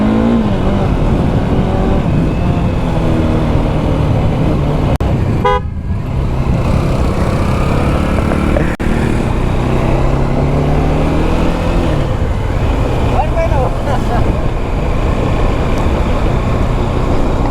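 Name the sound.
Bajaj Dominar motorcycle engine running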